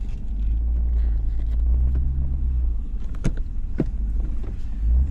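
A 2021 Ram TRX pickup truck with a 702-horsepower engine being driven, a loud steady low engine and road rumble heard from inside the cab, with a couple of brief clicks and no talking.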